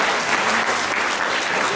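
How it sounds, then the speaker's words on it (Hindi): A live audience gives sustained, dense applause welcoming the chief guest at an event, steady and loud throughout with no break. "मैं चाहता हूं कि जोरदार ताली के साथ उसका स्वागत करें।"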